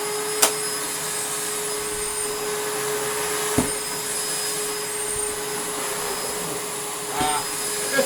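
A Panasonic MC-E465 bagged upright vacuum cleaner motor runs steadily with a constant high whine and broadband hiss, with a few faint clicks and bumps.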